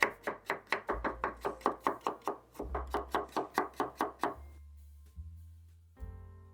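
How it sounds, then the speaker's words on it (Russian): Fast rhythmic knife slicing of radishes into half-rings on a cutting board, roughly twenty sharp strokes in quick succession with one brief pause, then silence. "Также полукольцами режу редис."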